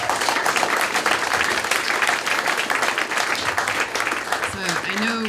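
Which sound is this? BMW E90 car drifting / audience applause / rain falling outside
audience applause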